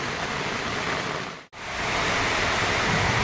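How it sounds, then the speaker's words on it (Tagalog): Heavy monsoon rain pours down in a dense, loud, continuous roar that cuts out for an instant midway before resuming at full strength. "Isang napakaulan na umaga mga kabukals"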